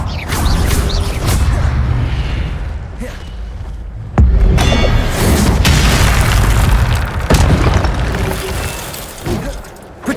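Incendio fire spells blasting in the Hogwarts Legacy video game, a series of loud booming bursts and whooshes amid continuous combat noise, with a sharp hit around the middle and another near the end.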